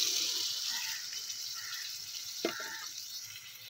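Water pours into a pot of soybean and potato curry on the stove, a soft steady splashing that tapers off, with a brief clatter near the end.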